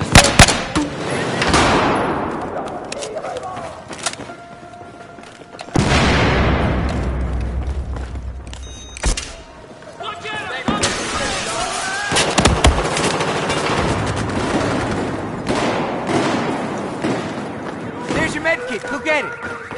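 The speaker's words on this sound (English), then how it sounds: "I'm taking heavy fire over here!" Heavy gunfire in the shooter Battlefield 4: loud bursts of automatic fire and booming explosions come in repeated waves, with players talking over the chaotic battle.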